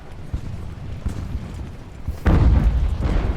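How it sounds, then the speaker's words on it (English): Cannon fire booms out in an Ultimate Admiral: Age of Sail naval battle, a sudden heavy blast midway that rolls on into rumbling noise after low battle ambience. "Continental cannon!"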